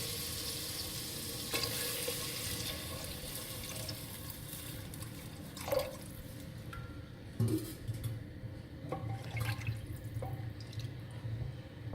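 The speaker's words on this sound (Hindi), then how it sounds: "मसाला हमारा भुन चुका है, इसमें मैं अब ऐड करूँगी पानी" Water poured into frying masala in a hot pan for garlic-almond shorba sets off a busy sizzle and bubbling, with a few stirring clanks over a steady frying hiss.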